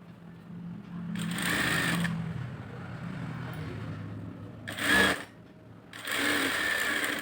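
A sewing machine stitches a folded blouse lining in three separate runs, a long steady burst first and then two shorter ones, with quiet pauses between them.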